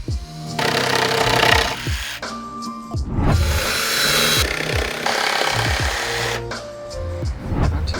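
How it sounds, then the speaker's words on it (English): A Dremel rotary tool grinds through protruding screw ends during a Sprinter van bed-frame build, giving a high whirring buzz in several bursts with short pauses and pitch drops as the bit bites and spins down, close and loud. "We used a Dremel to remove the remaining part of the screws."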